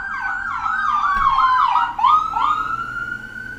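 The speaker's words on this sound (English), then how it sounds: "And those are sirens for confirmation." Emergency sirens wail and yelp in rising and falling sweeps on a very busy road, fairly close and loud, with passing road traffic underneath.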